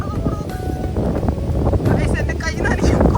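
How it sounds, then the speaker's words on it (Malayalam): Heavy rain and gusting wind, a loud, rough, continuous roar buffeting the microphone, with people talking over it. "വലിയ മഴ."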